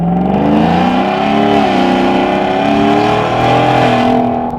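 A loud V8 Ford F-150 with high-flow Y-pipes and a Corsa Extreme exhaust revs continuously with a deep, aggressive note, its pitch rising and falling in waves, close by with no talking.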